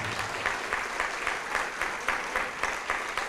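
Clapping from a church congregation in praise during a televised service, loud and continuous, falling into a steady rhythmic beat of repeated claps.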